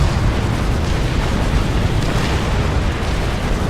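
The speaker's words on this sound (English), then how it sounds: "Let's keep blowing up these things." Battle explosions in the real-time strategy game Supreme Commander, with UEF units under Gatling gun and grenade launcher fire, form a loud, dense, continuous rumbling roar of overlapping blasts with no clear gaps.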